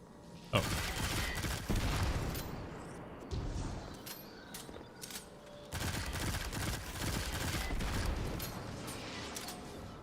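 Rapid gunfire shooting enemies in Destiny, dense bursts of shots and booms in several loud stretches with brief lulls, mechanical clanks mixed in.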